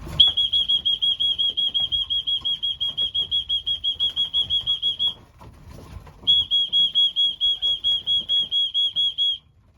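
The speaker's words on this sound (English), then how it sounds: "You're going to hear the whistle in a minute, so apologies if it's a bit loud." A pigeon training whistle blown in a long run of rapid, even pulses, then a brief pause and another steady pulsing run; loud, shrill and close, with no talking.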